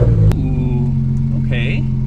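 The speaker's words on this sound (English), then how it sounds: "there was a little bit of a burble on startup" A tuned Porsche 911 GT3 Touring engine catches on startup with a sharp burst, then settles into a steady low idle with a brief burbling flutter, heard close and loud.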